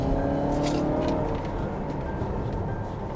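Mazda 6 sedan accelerating hard on kick-down in second gear, heard from inside the cabin as a steady, rising engine drone with road roar and no talking.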